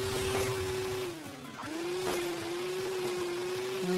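Diesel pickup engine in Hill Climb Racing 2 drones at a steady pitch, easing down briefly then settling back to a constant hum over a busy game soundtrack, with no talking.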